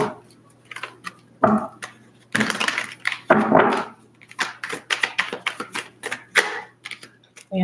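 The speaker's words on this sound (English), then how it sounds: "Let's do a shuffle." A deck of tarot cards is shuffled by hand, with brisk papery riffles and flutters in quick bursts and short pauses between them, close and crisp over a faint steady hum.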